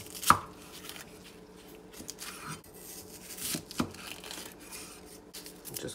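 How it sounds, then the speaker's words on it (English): Cabbage leaves are torn by hand as a garnish for Korean pork bone soup, giving quiet, scattered tearing and crinkling sounds with one sharper rip near the start. "I'm just going to tear it by hand."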